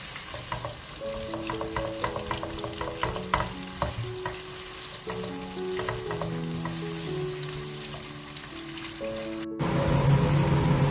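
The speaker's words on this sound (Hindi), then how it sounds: "वन कप ऑयल के साथ हम इसमें प्याज ऐड कर देंगे क्योंकि ऑयल ऑलरेडी गर्म होना शुरू हो चुका था।" Onions sizzle steadily as they fry in about a cup of hot oil for aloo kofta, with stirring noises and music playing over the cooking throughout.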